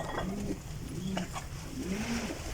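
Racing pigeons just landed at a loft after a club race coo softly in low, rounded calls, a few repeated phrases at moderate distance with faint background noise.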